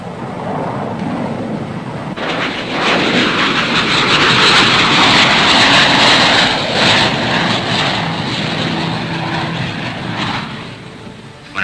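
An F-86D jet aircraft going around on a missed approach, a loud broad roar that swells near the midpoint and then eases off, with no voices.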